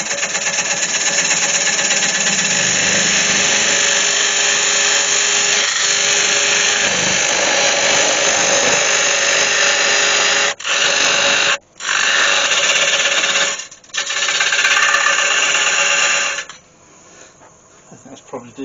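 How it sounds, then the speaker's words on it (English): A quarter-inch parting tool cutting into beech wood on a lathe while turning a three-legged bowl, giving a loud, continuous whirring, scraping drone with a few brief dropouts before stopping abruptly near the end. "First thing I'll do is just go in my quarter inch parting off tool."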